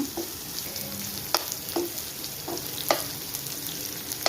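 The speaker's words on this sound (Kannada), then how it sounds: "ಹಸಿಮೆಣ್ಸಿಕಾಯಿ ಒಂದು ಮೂರು ನಾಲ್ಕು ಕಟ್ ಮಾಡಿರೋದು ಕರ್ಬೇವಿನ ಸೊಪ್ಪು ಇಷ್ಟು ಹಾಕೋಣ ಇಲ್ಲ ಸ್ವಲ್ಪ ಸೈಡಲ್ಲಿ ಫ್ರೈ ಮಾಡ್ಕೊಳೋಣ" Green chillies and curry leaves frying in a pan, a steady close sizzle broken by a few sharp pops and scrapes of stirring.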